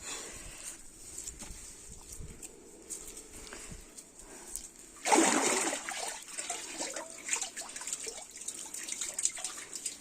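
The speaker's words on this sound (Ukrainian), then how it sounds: "дивіться, яка у нас вода чиста, джерельна водичка тече" Clean spring water runs and splashes steadily, growing louder and fuller about halfway through, with a continuous trickling, gushing texture close by.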